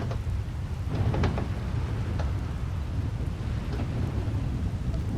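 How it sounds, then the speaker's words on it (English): A fierce storm rumbles with heavy steady rain and low thunder, loud and continuous, with a few sharper crackles early on and no voices. "and a fierce storm coming our way"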